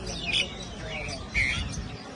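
Small birds chirp in two short bursts over a murmur of background chatter and crowd noise.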